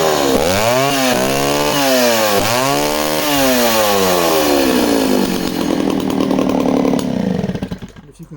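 An Echo CS-60S chainsaw runs loud and close, revving up and down several times in rising and falling sweeps, then holds at high speed before cutting off at the end.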